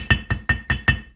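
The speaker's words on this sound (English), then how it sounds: "hit the warm weld, and hit it with a hammer" A hand hammer strikes a still-warm weld on a Toyota Corolla 4WD exhaust manifold: five sharp metallic blows in an even rhythm, each with a short bright ring, close and clear.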